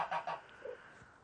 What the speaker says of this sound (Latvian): No lielām vistām pārsvarā man ir bramas.